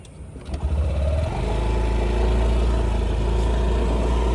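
A 2024 Honda Activa scooter engine starts and then runs steadily through a ride, a loud, close, continuous hum that rises slightly as it gets going, with no talking.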